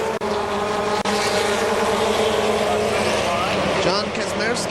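Race cars roar around KilKare Speedway in a continuous loud engine drone, with a voice talking over the steady racing noise.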